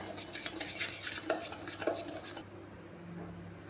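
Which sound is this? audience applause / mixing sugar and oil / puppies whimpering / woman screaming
mixing sugar and oil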